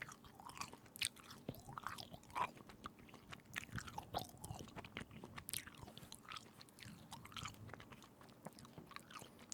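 Gum being chewed close to the microphone in a quiet room, producing soft wet smacks and clicks in an irregular, steady rhythm that continues throughout without speech.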